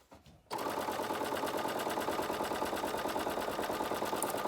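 A sewing machine top stitching a hair scrunchie at 1/8 inch, starting abruptly after a brief quiet moment and running as a fast, even, continuous mechanical whirr with rapid needle clatter, close and steady throughout.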